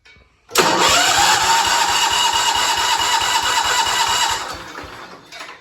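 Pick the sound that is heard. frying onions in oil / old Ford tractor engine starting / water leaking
old Ford tractor engine starting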